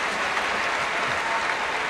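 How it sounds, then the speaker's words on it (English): Basketball arena crowd at a college game applauding steadily, a dense, even wash of clapping filling the space at moderate loudness for the whole stretch without pause. "It's a nice round of applause as he stands up."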